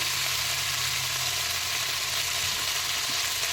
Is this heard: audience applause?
no